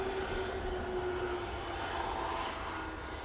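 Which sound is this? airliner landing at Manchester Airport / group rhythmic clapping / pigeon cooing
airliner landing at Manchester Airport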